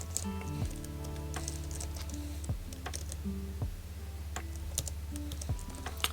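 Quick, uneven clicks of a computer keyboard as Java test code is typed in Eclipse, close and steady for about six seconds over a constant low tonal hum.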